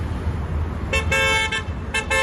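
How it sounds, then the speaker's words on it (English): Car horns honk on a Brooklyn street in several short bursts, some back to back, loud and close over a low rumble of traffic. "They're honking for my beautiful wife"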